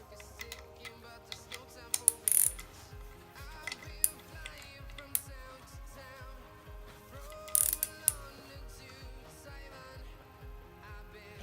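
Wrench ratcheting while tightening the feed and drain oil line fittings on a turbo for a KA24DE engine, with rapid repeated clicks in bursts and a few sharper metallic taps, close up, no talking.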